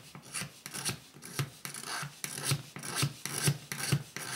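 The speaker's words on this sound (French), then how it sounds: "Quand vous avez gratté le plus gros de votre blanc avec votre dos de lame de scie" Back of a saw blade scraping paint off a fishing rod blank, a rhythmic series of about nine close, raspy strokes, steady and evenly spaced.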